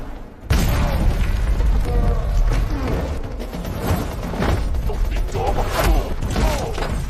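Grenade blast in a film fight scene, a sudden loud boom that opens into sustained crashing, rumbling action noise and scattered impacts.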